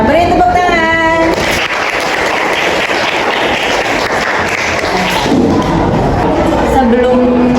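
A class of students applauds after a discussion, a dense stretch of close clapping that fills most of the moment, with voices speaking briefly at the start and end.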